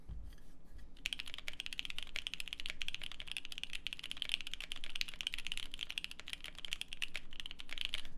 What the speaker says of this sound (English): these switches here are actually a full nylon switch, so these switches probably have a tendency to lean towards a different sound